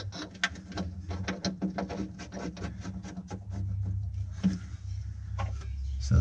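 Metal bolts on a jet ski jet pump being tightened by hand with a ratchet, giving a quick series of close clicks and scraping rubs, steady and fairly faint.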